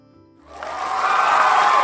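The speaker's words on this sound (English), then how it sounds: "The crowd cheers as the image on the screen changes." A video game crowd gathered beneath a giant projection screen swells into loud cheering after a quiet start, a broad roar that builds and holds steady.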